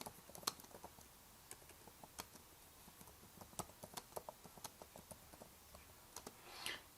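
Rapid, irregular clicking of keys on a Microsoft Surface Pro 5 keyboard, crisp close taps scattered over several seconds with no talking.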